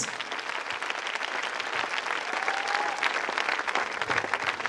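A church congregation claps and applauds for the Lord, a dense, sustained wash of many hands at a steady loud level, with scattered cheers mixed in.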